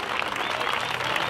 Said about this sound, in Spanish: Fuerte el aplauso, por favor, fuerte ese aplauso.